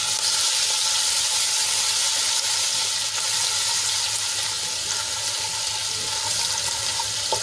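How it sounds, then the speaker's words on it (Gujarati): Garlic and chili paste, with a pinch of asafoetida, sautés in hot oil in a home kitchen, making a loud, continuous, even hiss and sizzle from start to end, close by and without voices. "અને તેલમાં આપણે એને સરસ રીતે સાંતળી લઈશું."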